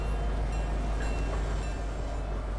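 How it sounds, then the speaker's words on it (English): A train rumbling past in the Fortnite video game, a dense, loud, continuous low roar with clattering texture, steady throughout and without voices. "The train!"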